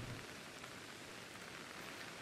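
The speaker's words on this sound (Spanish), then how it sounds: "¿Suena lluvia? ¿Solo lluvias?" Steady rain falling in Pokémon Legends: Arceus, a constant dense hiss of drops with no thunder or voices, holding even and moderately loud throughout.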